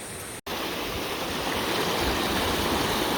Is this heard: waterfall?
yes